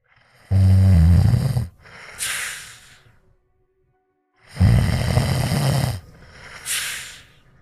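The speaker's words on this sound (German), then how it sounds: "Wie die alte Frau schnarcht" A voice performing snoring in a quiet room, two long rasping inhaled snores each followed by a softer snorting exhale, close and fairly loud with a pause between them.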